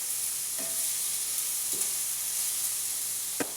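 Diced tomatoes and red onions fry in a pan for a vegan jambalaya, giving a steady, loud sizzle and hiss. A few soft scrapes of stirring break through the frying.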